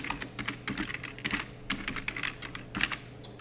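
Quick, light clatter of fingers typing quiz questions on a computer keyboard, continuous irregular keystrokes at close range with a faint background hum.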